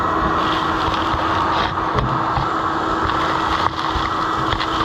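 A shop vac sucks debris from a New Holland 352 sheller attachment, producing a loud, continuous rushing roar of airflow with a steady motor hum underneath and small rattling shifts throughout.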